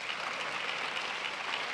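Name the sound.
conference audience applause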